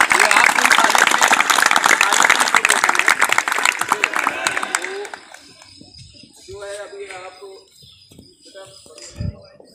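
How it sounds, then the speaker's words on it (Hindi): A crowd gives loud, dense applause at an awards ceremony at Madan Mohan Malaviya stadium after a 3 km and 1500 m race competition. The clapping fades after about five seconds, and voices and a few scattered sounds follow. "एक बार जोरदार ताली हो जाए।"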